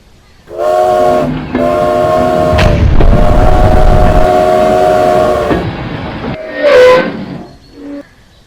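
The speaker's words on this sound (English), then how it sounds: "The train is coming." A LEGO toy train rumbles loudly nearby, with sustained horn-like tones over heavy low rumble, fading briefly before a last whistle burst near the end.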